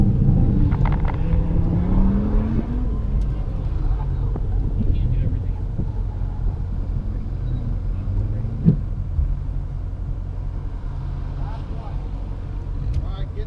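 An autocross practice car drives toward a cone on a course, its engine rumbling steadily with wind buffeting throughout, while an instructor talks over it.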